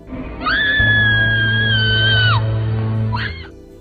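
A woman in a horror film lets out a long, piercing, sustained scream over a low droning hum, then gives a second short, wavering cry near the end.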